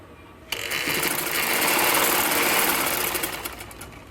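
A sewing machine runs steadily, stitching the folded waistband casing of a ladies' shalwar, starting abruptly and holding a loud, even whir before easing slightly at the end.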